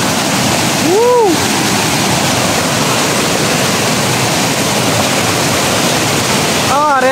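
Roaring broadband rush of Tinuy-an waterfall's first falls near Bislig, Surigao del Sur, loud and steady throughout, with brief whoops and shouted voices from people near the start and again at the end.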